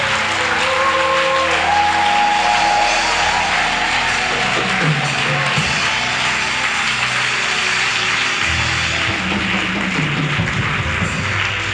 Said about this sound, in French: je veux que tu te tiennes debout et que tu acclames Jésus-Christ pour le salut